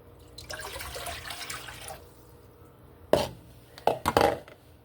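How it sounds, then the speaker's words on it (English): Four cups of water stream into a pot for about a second and a half, followed by several sharp knocks and clatters of cookware close by. "So we're going to put 4 cups of water into our pot."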